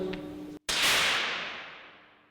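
A single sharp rifle shot cracks out at a shooting competition and decays in a long fading echo, preceded by faint background sound.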